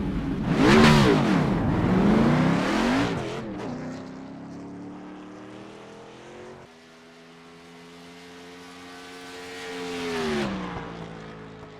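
An Xfinity Series stock car roars past on the track in a racing game at Rockingham, a loud swelling pass-by, then a sustained engine drone that fades, dips and climbs again in pitch.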